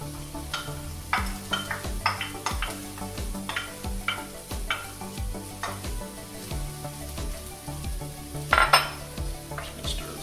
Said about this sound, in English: I'm just going to stir this around here.